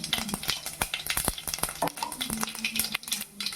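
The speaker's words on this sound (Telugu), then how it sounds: "బాగా ఆవాలు చిట్టపట్లాడిన తర్వాత" Mustard seeds spluttering in hot oil make rapid sharp pops and crackles over a steady sizzle, close up, with a few utensil clinks scattered among them.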